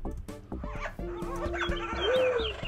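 Spawned birds from a Minecraft furniture mod cluck and chirp in quick, close bursts like chickens. A steady tone and whistling game sounds run underneath.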